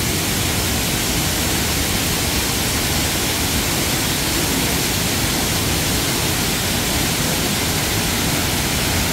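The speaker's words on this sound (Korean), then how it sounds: "대폭포입니다. 최근에 장마가 있는 바람에 수량이 엄청나게 늘어났습니다" Hongryongsa's roughly 20 m waterfall, swollen after monsoon rains, pours in a loud, constant close-up roar that fills everything, with no voices.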